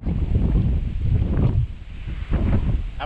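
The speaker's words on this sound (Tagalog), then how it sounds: "Ayan, napakalakas na po ng hangin." Very strong wind buffets the microphone in loud, gusting rumbles that swell and ease over a few seconds, with no voices.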